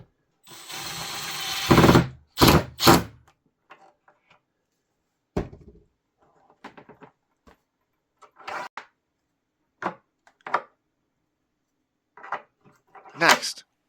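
A power drill drives screws into a panel while installing a bolt-down bracket, with a long whirring burst followed by short bursts and clicks, separated by quiet gaps and bits of speech.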